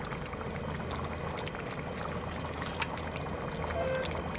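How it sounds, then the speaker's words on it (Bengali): A pot of meat curry bubbles at a low, steady simmer after water is added, a soft continuous burble close by with a faint background hum. "জল আমরা দিয়ে দিয়েছি এবারে ফুটতে দেবো"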